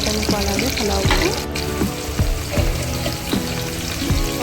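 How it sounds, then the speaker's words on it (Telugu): Tempering spices in hot oil for mutton curry and pulao, a loud continuous crackling sizzle with repeated sharp spattering pops and clinks of utensils. "2కి తాలింపు పెడుతున్నాను, మటన్కు అలాగే పలావ్కు."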